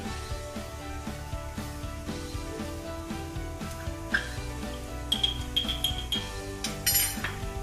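Curry powder being stirred into mutton in a cooking pot, with a steady run of light metallic clinks and scrapes from the utensil against the pot, close and moderately loud.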